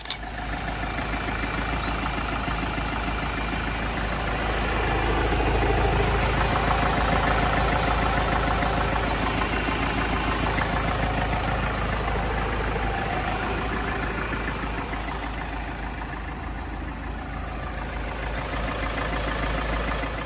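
A faulty car engine runs with a steady knocking rattle, close and continuous, the idle rising and falling slightly with a high whine above.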